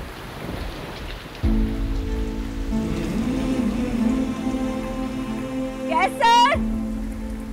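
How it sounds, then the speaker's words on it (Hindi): Rain falls steadily under a low droning hum, with a brief high tone near the end; no clear talk stands out. "बारिश हो रही है, अंदर आओ।"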